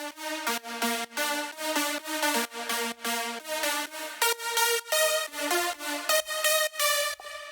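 An FL Studio synth lead pitched an octave below plays a bright, buzzy, rhythmic melody of short repeated notes with brief gaps between them, loud and alone with no voices.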